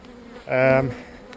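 A single honeybee buzzes close by for about half a second during work on hive colony splits, a clear harmonic drone over faint background.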